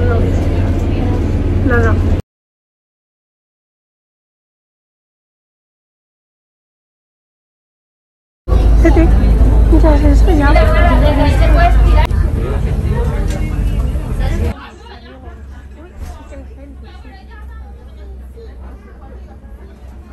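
Cabin noise inside a bus: a steady low rumble runs under close-up talking, then drops out for several seconds before returning with more chatter, and ends with quieter background murmur.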